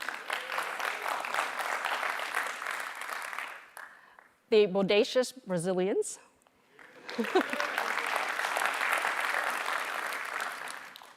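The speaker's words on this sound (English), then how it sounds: "Woo, you gotta cheer for them." An audience at a graduation ceremony bursts into loud applause and cheering, falls quiet while an announcer speaks a short line into a microphone, then erupts again in sustained clapping.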